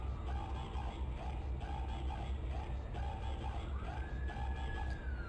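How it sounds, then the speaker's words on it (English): A wailing emergency siren sounds outside, rising and falling in repeated sweeps at moderate distance over a steady low background rumble of Trainz Simulator 3 game audio. "That's a siren outside,"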